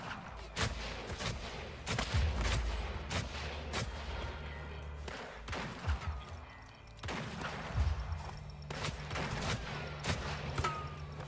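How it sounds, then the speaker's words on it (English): A video game gunfight erupts in sharp volleys and single cracking shots spaced across the stretch, some heavy and booming, each trailing a long echo over a quieter rumbling background. "Then you get a proper gunfight."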